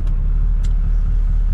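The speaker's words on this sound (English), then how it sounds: "Coming back from the Quail in the 1965 Mini Cooper S." 1965 Mini Cooper S driving in stop-and-go traffic with windows fully open, a loud steady low engine rumble heard from inside the car, with a couple of brief faint clicks.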